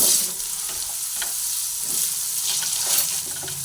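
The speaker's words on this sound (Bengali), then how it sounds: "প্রথমে আমি তেলের মধ্যে হলুদ গুঁড়ো দিয়ে নিলাম দিয়ে আমি পটলগুলোকে ভেজে নিচ্ছি" Pointed gourd pieces frying in oil with turmeric, a steady close sizzle with light stirring clatter running throughout, no voices.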